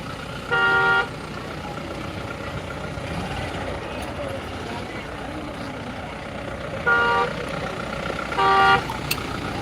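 Vehicle horns sound during a traffic jam in Antarwali: three separate loud toots, one near the start and two close together near the end, over a continuous low hum of idling traffic.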